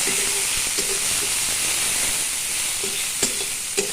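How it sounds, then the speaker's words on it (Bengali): Chopped green chilli, onion and garlic fry in hot oil with a constant bright sizzle, broken by light, intermittent clicks and taps of a spatula stirring in the pan. "এতে সবটা কিছুক্ষণ নেড়ে এটাকে ভাজা ভাজা হতে দেবো"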